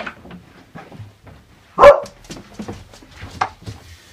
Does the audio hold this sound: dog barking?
yes